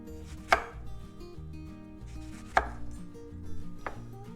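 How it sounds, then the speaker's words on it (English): A knife cuts through a fresh lemon on a board, giving two sharp, close chops a couple of seconds apart and a softer third one, with no talking. "I'm gonna take a lemon and I'm going to slice a few"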